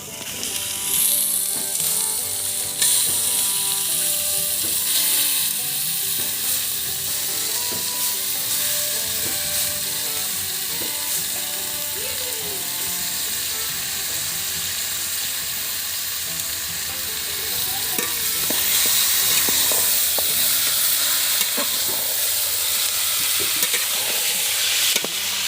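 Washed mutton pieces fry with spices in a pan for a potato and apple mutton curry, giving a loud, continuous sizzle and hiss up close, with stirring scrapes and a surge in intensity near the end.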